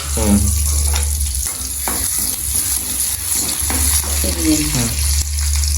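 Fennel, onion and garlic frying in a pan in a Jaffna home kitchen, a loud close sizzle with stirring scrapes, while voices talk over it and a low hum runs underneath.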